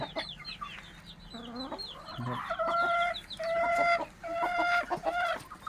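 Hybrid laying hens cluck and squawk close by in a farm coop, several birds calling over each other in repeated bursts of clucks and drawn-out cackles with little pause.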